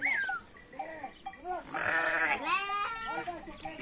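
Sheep at a Turkish shearing site bleat in a quick series of wavering, nasal cries, several overlapping and close, with a person talking in between.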